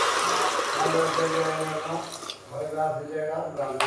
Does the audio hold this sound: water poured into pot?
yes